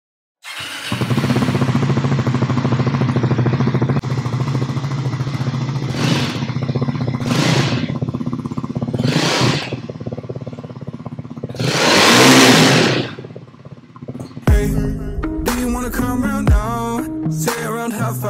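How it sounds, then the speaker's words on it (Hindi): A 2024 Triumph Scrambler 400X motorcycle exhaust rumbles at idle, then rises through several loud, close revs, the longest around the middle; later, clattering mechanical noises and short bursts take over. "साइलेंसर का थोड़ा सा नोट सुना दीजिए, थोड़ा सा पता चल जाए सबको कि कैसा क्या रहने वाला है।"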